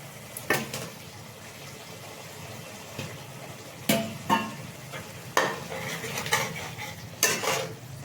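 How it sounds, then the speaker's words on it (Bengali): Spice paste sautéed with fried potatoes in a pan for an egg curry, a steady low sizzle broken by several sharp scrapes and clanks of a spoon against the pan, close and fairly loud, with no talking. "এবার এটাকে এবার মশলাটাকে ভালো করে কষিয়ে নেব আমি ভেজে রাখা আলুটিকেও এবার ছাড়ছি"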